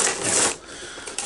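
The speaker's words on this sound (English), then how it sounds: "I'm going to try to open this one without the scissors." Darth Maul action figure packaging being pulled open by hand without scissors, a dense burst of crinkling, tearing cardboard and plastic rustle, close and fairly loud, with a brief lull before another rip.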